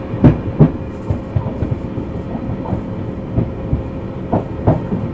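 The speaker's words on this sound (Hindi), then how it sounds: "यहाँ से भी अपनी ट्रेन निकल चुकी है फतेहपुर" The Prayagraj Express pulls away from Fatehpur railway station, wheels clacking over rail joints in a rhythmic series of thumps above a steady rumble of moving coaches, heard from close by without talk.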